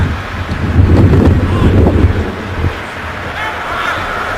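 Strong wind at an outdoor NFL football game in Miami buffets the microphone in a steady low roar, gusting harder for a few seconds before easing slightly, with no voices.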